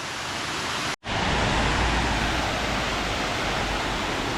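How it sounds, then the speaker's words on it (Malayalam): Silver Cascade waterfall in Kodaikanal roars as a loud, dense, unbroken rush of falling water heard up close, with only a momentary dropout near the start. "സിൽവർ കാസ്കേഡ് പാർക്ക്, ഈ വാട്ടർഫോളും കൂടെ കണ്ടിട്ടങ്ങ് പോകാമെന്ന് വിചാരിച്ചു"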